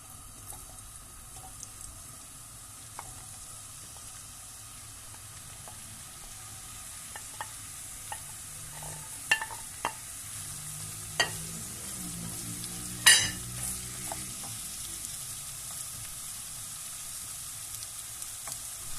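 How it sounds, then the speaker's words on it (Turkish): Zucchini pieces dropped a few at a time into hot oil: a low steady sizzle with scattered soft taps and splashes that build toward one louder clatter near the end, quiet overall with no talking. "Evet şöyle yavaş yavaş kabakları atıyorum."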